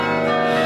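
Bells chime inside the belfry tower in Bruges, a sustained ringing tone with layered overtones that fills the short stretch without pause.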